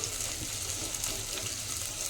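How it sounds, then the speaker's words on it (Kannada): Capsicum and mixed vegetables frying in a pan, giving a steady, close hiss and crackle of sizzling oil that runs without a break and with no talk over it. "ಇದು ಚೆನ್ನಾಗಿ ತರಕಾರಿ ಇದರಲ್ಲಿ ಫ್ರೈ ಆಗಲಿ."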